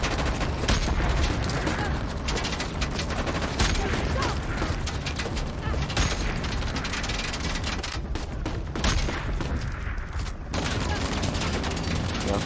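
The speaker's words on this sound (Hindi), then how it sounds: "चॉपर ही मार रहा है" Helicopter gunfire rattles through a firefight in Uncharted: The Lost Legacy, a fast, dense, mechanical chatter of shots that stays loud and continuous throughout.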